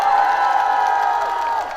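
Audience at an outdoor civic concert during the Ulsan fireworks festival applauds and cheers, a steady loud wash of clapping and shouting lasting a couple of seconds before easing slightly.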